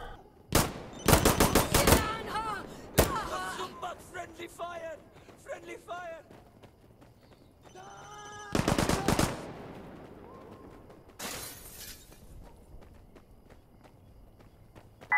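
Gunfire in Insurgency: Sandstorm: several loud rapid automatic bursts close by, separated by quieter stretches with footsteps and voices talking in between.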